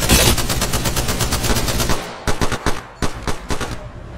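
Rapid automatic gunfire in the Apex Legends video game: a dense, loud continuous burst that breaks into shorter clusters of shots toward the end, close and without talk.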